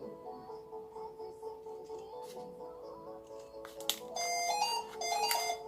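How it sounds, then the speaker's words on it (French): A phone rings with a steady electronic tone that sits under a quiet indoor room during a paper-drawing session, growing louder and brighter in its last two seconds. "c'est le téléphone qui sonne"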